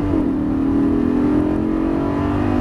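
A car engine on a race track at Dreux revs hard and accelerates in third gear, a steady loud roar with rising pitch, close and continuous throughout.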